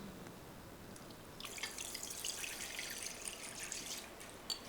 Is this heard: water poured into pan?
yes